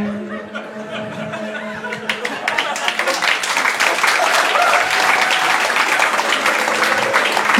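An audience breaks into applause that builds from scattered claps into a full, sustained ovation, with a few chuckles and some talk early on.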